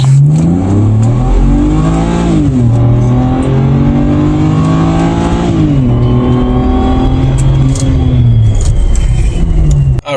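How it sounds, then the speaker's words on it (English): A car launches from standstill at full throttle, its engine revving loudly and climbing in pitch through several gear changes, each marked by a brief drop before the next rising surge. "We're going to press the start button, and then we're going to floor it."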